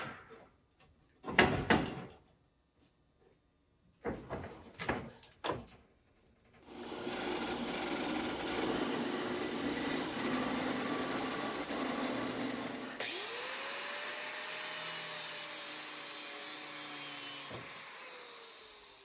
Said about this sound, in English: I'm going to use the bandsaw to cut out the section of tubing right here.